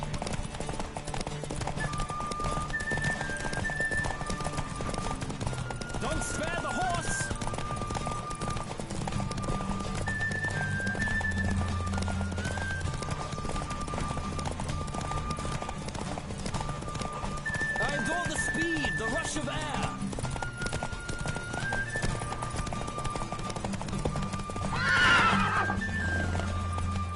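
Hoofbeats of Roach galloping in a horse race in The Witcher 3, a steady rapid clip-clop with occasional neighs, set under game music and character dialogue throughout.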